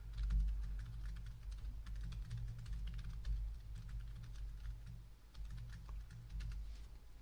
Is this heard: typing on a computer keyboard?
yes